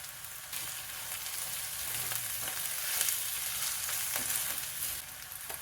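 Tomato and split peanuts roast in a pan over a medium gas flame with turmeric and asafoetida, giving a steady close sizzle with faint stirring scrapes throughout, no voices.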